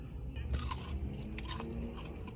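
Crunchy Taco Bell nuggets with Diablo seasoning being bitten and chewed close up, giving a few crisp crackling bites with no talking.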